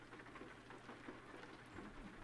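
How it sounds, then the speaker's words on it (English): Steady rain in American Truck Simulator, heard from a truck driving from Moab, Utah toward Cheyenne, Wyoming, with a continuous soft patter over a low rumble and no talk. "it's now raining"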